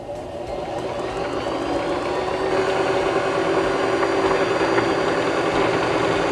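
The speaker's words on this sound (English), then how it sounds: "now we can push down on our foot pedal again and wind the rest of our bobbin" A portable sewing machine run by foot pedal winds a bobbin with a steady, close motor hum that holds at an even pitch throughout, with no talking.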